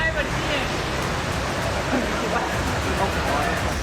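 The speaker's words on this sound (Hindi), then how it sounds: "बाढ़ के पानी की इतनी तेज रफ्तार और उसका शोर सुनकर हर कोई डर गया।" Loud, steady roar of fast-rushing flood water after torrential rain in Sikar, Rajasthan, broadband and continuous like a churning flood, with a faint murmur of voices mixed underneath.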